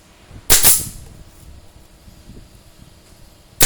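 A pneumatic staple or nail gun fires into the rattan bottom rim of a woven basket, making two sharp, loud bangs about three seconds apart with quiet handling noise between.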